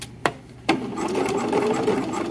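A sewing machine stitching a dress shoulder seam, starting with two sharp clicks before running into a steady, close, fast mechanical whir that continues to the end.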